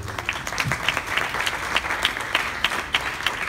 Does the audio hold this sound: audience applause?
yes